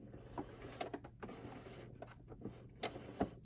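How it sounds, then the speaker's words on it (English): Sewing machine running a zigzag stitch across a scrap of fabric, a quiet, even mechanical hum with soft rhythmic ticks from the needle, heard close and alone. "just to show you guys the zigzag stitch on the machine"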